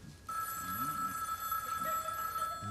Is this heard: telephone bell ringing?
yes